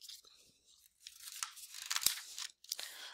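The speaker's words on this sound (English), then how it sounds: "He chews acorns with his teeth. Crunch, crunch, crunch." A fox crunches acorns with its teeth, giving quiet, close bursts of dry crunching and gnawing with brief pauses between bites.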